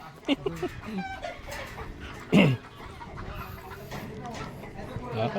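Several chickens clucking and squawking nearby, with one louder, drawn-out call in the middle, over a busy outdoor background with voices.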